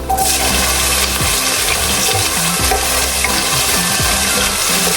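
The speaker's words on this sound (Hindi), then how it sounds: "ये जा रहे हैं इसमें प्याज तड़के में" Onions dropped into a hot tempering of oil and spices in a home kitchen, a loud, steady rushing sizzle that fills the whole moment, close by, with no talk over it.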